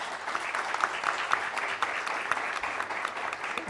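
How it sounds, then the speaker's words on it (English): Audience at a defence summit panel discussion applauding the panelists, steady dense clapping from a crowd in a hall, sustained at moderate level for several seconds with individual claps popping through. "please join me in showing your appreciation to all our panelists with a round of applause"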